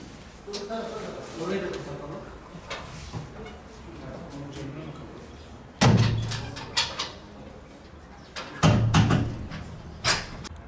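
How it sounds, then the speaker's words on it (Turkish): At the entrance to an exam hall, two loud door thuds ring out several seconds apart amid background chatter and voices, with a smaller knock near the end. "Kapıyı kapatalım."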